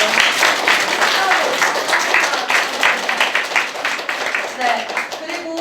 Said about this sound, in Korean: 우리 수고해주신 선배님들께 큰 박수